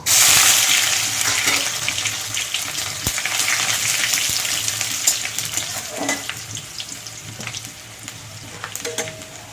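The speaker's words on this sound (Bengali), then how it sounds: "এবার দেবো শুকনো লঙ্কা ফোড়ন, 3টে শুকনো লঙ্কা, 2টো তেজপাতা ছিঁড়ে দিলাম, কটা রসুন থেতো করে রেখেছি দিয়ে দেবো।" Dried red chillies, torn bay leaves and crushed garlic crackle and spit as they hit hot oil, a loud dense sizzle that bursts in at once and slowly settles, with a few utensil scrapes and clicks near the end.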